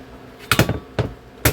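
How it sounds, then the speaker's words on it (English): Small hand hammer tapping staples into vinyl upholstery on a boat seat, three sharp close knocks, the first a quick double rap, spaced about half a second apart with no talk. "If sometimes your staple don't go in, just take your little hammer"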